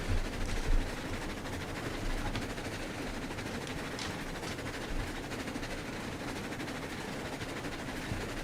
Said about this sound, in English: pulling a doubleheader up to the iron mine.